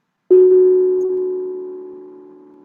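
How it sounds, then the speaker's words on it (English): A meditation bowl struck once during a Sunday meditation service, its clear tone ringing on alone with steady overtones and slowly fading. "with the ringing of the bowl,"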